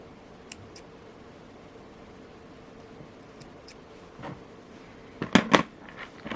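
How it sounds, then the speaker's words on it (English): Scissors snip the end of a bracelet thread, with faint small clicks early on and then a couple of sharp close cuts near the end against a quiet room. "Now I will cut the end of the thread with the scissors."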